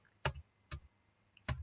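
Three separate, crisp keystrokes on a computer keyboard, spaced unevenly and fairly quiet, with silence between them and no talk.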